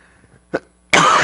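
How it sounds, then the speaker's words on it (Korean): A person with a lingering cold coughs: one short, sharp cough, then a louder, harsh, sustained burst. It is close and alone, with no talk. "감기가 원래 한 번 걸리면은 기침이 잘 안 떨어지는데 엄청나게 안 떨어집니다"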